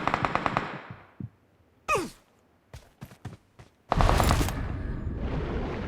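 Video game gunfire rings out in a rapid volley of sharp shots, then single cracks and a final dense burst of firing, with quiet gaps between.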